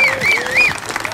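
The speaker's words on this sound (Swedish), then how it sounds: "Applåder," Brief burst of crowd applause mixed with rising and falling whistles at a car shootout event in Eskilstuna.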